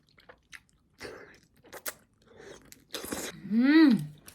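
Close, brief chewing and crunching of malatang in short bursts between quiet pauses, ending with a voiced sound.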